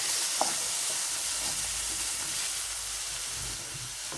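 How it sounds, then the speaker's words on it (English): Ginger and garlic stir-fry in a pan, giving a loud, continuous hiss that stays even for the whole stretch, with one brief click near the start. "let that stir fry for about half a minute or so"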